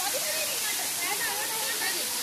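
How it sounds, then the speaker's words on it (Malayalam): Water from a waterfall near Konni falls onto the top of a large rock, a steady broadband rushing and splashing roar, fairly close and continuous, with faint voices talking underneath. "ഏതായാലും ഇതുപോലെ വലിയൊരു പാറയുടെ മണ്ടയ്ക്ക് വന്ന് വെള്ളം വീഴുന്നതാണ്."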